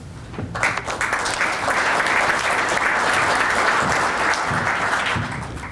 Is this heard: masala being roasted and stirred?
no